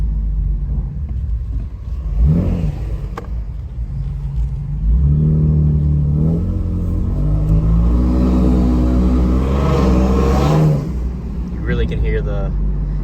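Toyota Tundra engine fitted with a K&N air intake, revving and rumbling while driving, swelling to a long loud surge midway, with someone talking over it.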